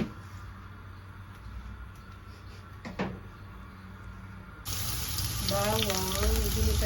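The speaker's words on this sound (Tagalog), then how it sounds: "Bawang, ginisa na yung bawang." Garlic sautéing in a pan for ginisang upo, a loud steady sizzle starting partway through after a quieter stretch with a brief knock, with faint talk in the background.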